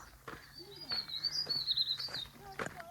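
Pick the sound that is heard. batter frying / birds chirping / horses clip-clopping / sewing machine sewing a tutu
birds chirping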